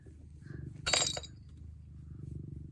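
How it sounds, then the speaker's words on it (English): A brief burst of clinking and clattering as a cat knocks small hard objects off a windowsill, tumbling and knocking together, over a steady low rumble. "my cat is sitting on the windowsill and knocking everything over, as cats do."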